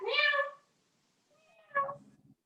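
During a Pilates class, a voice imitates a cat's meow: a drawn-out, nasal cry, a pause, then a second shorter mew trailing into a low rumble.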